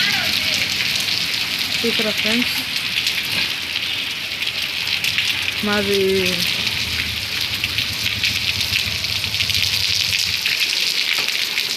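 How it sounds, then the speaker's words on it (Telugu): Heavy rain pours outside on a residential street, a dense, even hiss that holds throughout while a person talks briefly over it. "చూడండి అలా వర్షం పడుతుందో బయట."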